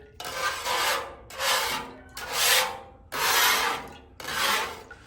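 A towel rubs cooking oil into the flat steel surface of a Blackstone griddle in five steady back-and-forth strokes, each a close, broad scrubbing swish separated by brief pauses.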